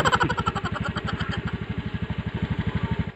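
A motorcycle engine runs close by with a fast, even pulsing throb at a steady idle-like pace, loud and alone without talk.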